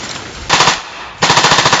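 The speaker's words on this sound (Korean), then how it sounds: "희미한 불빛과 총소리뿐" Machine-gun fire during a simulated South Korean military combat exercise, two loud close rapid bursts of rattling shots separated by a short pause.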